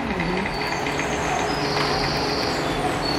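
A passing train rolls by with steady, continuous rumble and rail noise, fairly loud and unbroken throughout, with no talk over it.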